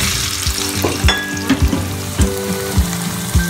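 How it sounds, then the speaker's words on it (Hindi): Boiled potatoes fry in hot oil, a steady loud sizzle broken by rhythmic scraping and clinking as they are stirred and turned in the pan, with no talking. "इसी ऑयल में हम ये बॉयल आलू डाल देंगे एक मिनट के लिए इन्हें फ्राई करेंगे"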